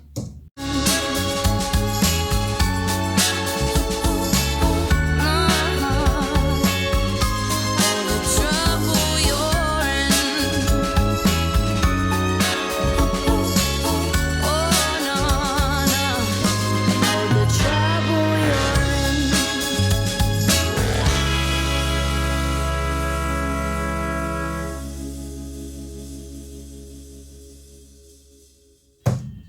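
Dense full-band music with too much upper-mid EQ plays continuously with a harsh, bright, brittle tone, ending in a long sustained fading chord.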